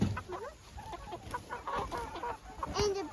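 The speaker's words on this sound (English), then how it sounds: "A bunch of roosters." A group of meat-bird roosters clucking close by, with overlapping busy calls and squawks against an outdoor background.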